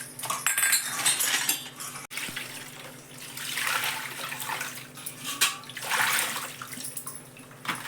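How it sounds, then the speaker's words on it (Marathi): Metal lamps being rinsed, lifted from soapy water into clean water: steady splashing and running water with occasional light metallic clinks, continuous and close throughout, no speech. "साबणाच्या पाण्यातून काढून परत चांगल्या पाण्यातून काढते"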